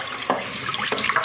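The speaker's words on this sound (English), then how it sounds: "So I'm gonna go wash this thing in the sink." An aquarium being rinsed under a sink faucet: running water gushes steadily, with a few splashing surges as the tank shifts under the stream, close and loud, no talk.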